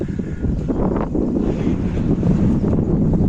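Steady, loud wind buffets the microphone outdoors on a pigeon rooftop, a low rumbling roar that continues without a break.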